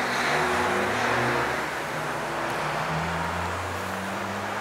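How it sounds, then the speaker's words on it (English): Road traffic beside a stone Tudor house, with a car revving and passing close by in a loud engine rumble of rising and falling tones, then a steadier wash of roadway noise that continues to the end. "Sorry about the traffic noise"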